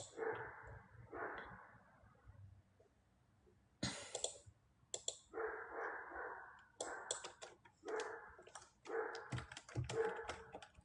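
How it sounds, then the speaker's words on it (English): A big Great Dane barks outside in repeated bursts, some clustered and sharp, others spaced apart, with faint clicks and whimpers between, at moderate distance and fairly quiet. "that fucking dog outside is so motherfucking annoying. What kind of dog is it? Do you know? Sounds like a big one. He's a Great Dane."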